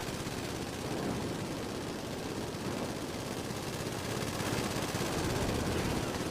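A minigunner in a video game fires continuously, a dense unbroken roar of rapid shots with a constant buzzing rattle that holds steady at moderate loudness without pause.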